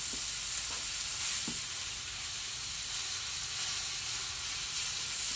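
Chuck steaks sizzling steadily on a Gabbysgrills griddle, a continuous broadband frying hiss with faint crackles and a couple of soft ticks, held at an even moderate level with no talking.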